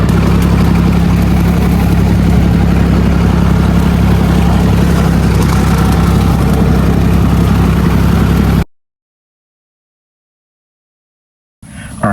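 A 60-year-old Massey Ferguson 135 tractor engine runs steadily and loud while mowing, a constant low idle-like drone for about eight seconds, then a sudden cut to silence before the engine returns briefly at the end.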